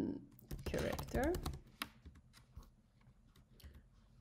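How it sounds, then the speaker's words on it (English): Quick bursts of typing on a computer keyboard, with close, crisp key clicks clustered early, then sparser taps, and some talking mixed in. "I'm very good at typing."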